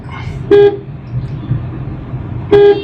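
A car horn toots twice, two short loud blasts about two seconds apart, over a low rumble of traffic.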